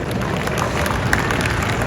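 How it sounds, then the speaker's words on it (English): Crowd applause at a pizza expo, a short dense burst of clapping amid general show-floor crowd noise. "So a round of applause for Tony for bringing it in."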